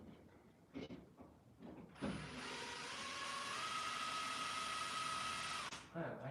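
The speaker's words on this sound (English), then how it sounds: "Take the screws out." Power drill backing long screws out of garage light fixtures, a steady whirring run of about four seconds, close and fairly loud, with brief bumps and handling noise before and after.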